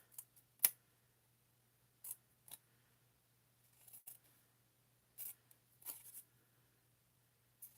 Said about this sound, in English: I'm just going to basically trim all the straight lines